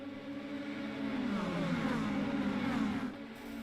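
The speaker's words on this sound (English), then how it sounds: "Listen to this car." Race car engine in the iRacing sim revving hard and climbing through the gears, a loud sustained mid-pitched roar with rising sweeps that drops away near the end.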